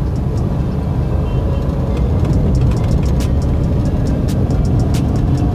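A car's engine and road noise hold a steady, loud, close drone from the cabin as the driver shifts up from second into third gear during a night driving lesson, with faint clicks and ticks over the rumble.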